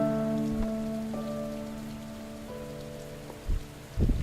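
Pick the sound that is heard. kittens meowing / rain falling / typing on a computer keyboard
rain falling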